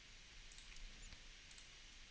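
Two faint, sharp computer mouse clicks about a second apart against a quiet room background, made while selecting scale keys in mocha v3 tracking software.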